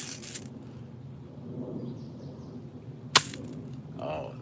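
A Daisy 102 CaliAir BB gun fires a single sharp, snappy crack during an outdoor range test, loud and very brief, set against quiet background noise.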